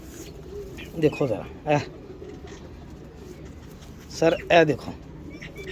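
Desi-breed pigeons in Faisalabad give low, soft coos in a few short bursts, close by, partly under a voice talking over them.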